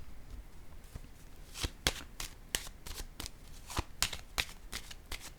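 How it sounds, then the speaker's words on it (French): Cards are handled and shuffled during a tarot-style reading, with a string of quick soft taps and flicks, fairly faint and close, ending as a card is placed down, no voices present. "Je vais déposer une carte."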